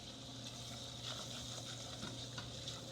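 Ground beef sizzles softly in a pan for a casserole, a faint continuous frying hiss with light stirring scrapes and no talking.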